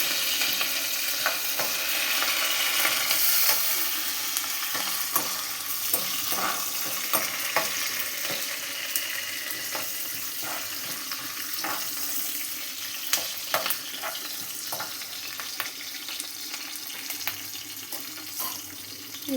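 Three green chillies stir-fried in a pan for brinjal and tomato curry, with steady oil sizzle and repeated spoon scrapes and clinks against the pan, close and continuous with no talking.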